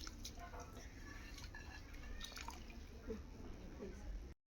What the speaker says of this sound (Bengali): এখন জল ফুটে গেছে ফ্রাইড রাইসের জন্য